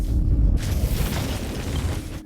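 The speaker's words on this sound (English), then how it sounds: "He escapes and sees Borealis strike the planet, causing a huge explosion." A huge explosion as the spaceship Borealis strikes a planet, a deep heavy boom that bursts into a broad roaring blast and rumbles on loudly with no talking.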